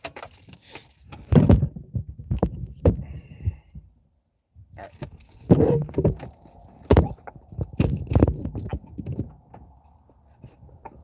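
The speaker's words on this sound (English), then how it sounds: "Alright, got the keys." Keys jangle in bursts of metallic clinking and rattling at a laundromat, close and fairly loud, with a brief pause midway and faint breathy sounds around them.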